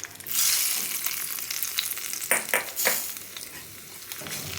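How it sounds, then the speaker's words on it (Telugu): Fenugreek seeds, mustard seeds, dried red chillies, curry leaves and asafoetida hit hot oil for a tempering, giving a loud crackling sizzle with sharp spitting bursts midway, close to the pan. "మెంతులు, ఆవాలు, ఎండుమిరపకాయలు, కరివేపాకు, ఇంగువ వీటి పోపు పెట్టుకుందాం"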